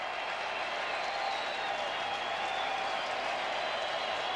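Baseball fans at Veterans Stadium roar during a 2002 Phillies versus New York Mets game, a steady, dense crowd cheer with applause sustained evenly throughout.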